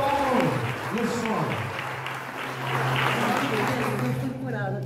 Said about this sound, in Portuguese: Pode aplaudir, igreja